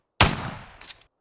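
Cannon fire in the Ylands video game: a single loud, close boom with a sharp attack and a short rumbling decay, followed by a couple of quieter crackling hits.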